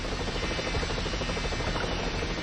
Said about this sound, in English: let's take a look at the helicopter with the saw